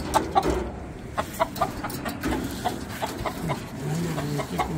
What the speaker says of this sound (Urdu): اچھا مرغا بھائی